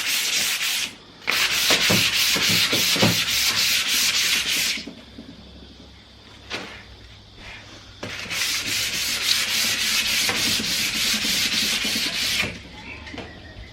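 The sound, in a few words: hand sanding wooden furniture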